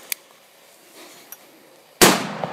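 A small FP3 (JC05) firecracker goes off with one sharp, loud bang near the end, preceded by a few faint clicks and ticks in quiet outdoor surroundings.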